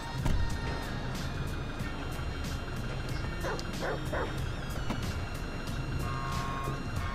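A dog barking in Grand Theft Auto 5, a run of sharp barks and yips mixed with a whimper over a steady city background of traffic and engine noise, with a few beeps.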